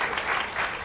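Brief burst of dense audience clapping at a talk, steady and crowded throughout.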